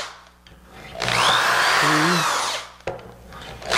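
A power drill bores a dowel hole in wood, a loud, steady whine lasting about one and a half seconds as the bit cuts in, with a click before it and a knock just after.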